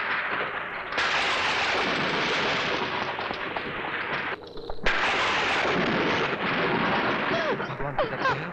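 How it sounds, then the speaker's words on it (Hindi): Heavy rumbling thunder rolls on and off as a fierce storm approaches in a Hindi film scene, a dense sustained roar with short lulls and sharper crackling bursts, loud and close. "लगता है भयंकर तूफान आने वाला है।"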